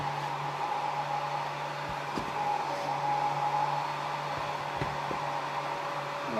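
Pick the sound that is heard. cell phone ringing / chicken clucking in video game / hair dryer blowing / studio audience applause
hair dryer blowing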